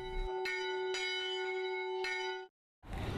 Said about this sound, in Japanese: 鐘を鳴らしたりして平和を願っていました